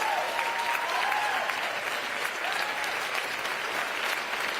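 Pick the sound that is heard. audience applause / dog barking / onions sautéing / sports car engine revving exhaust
audience applause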